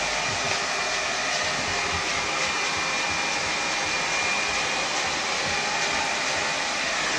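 A nozzle blower runs in a barbershop during a men's haircut, giving a steady, loud, unbroken airy roar that holds evenly throughout with no talking.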